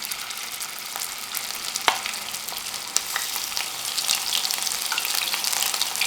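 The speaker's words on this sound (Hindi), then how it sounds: "इस तरह से एक एक करके हम श्रिम्प डाल देंगे इसमें।" Marinated shrimp for a Chinese-style prawn fry biryani hit hot oil in a pan one at a time, a loud continuous sizzle with a couple of sharp splashes as pieces drop in, no voices.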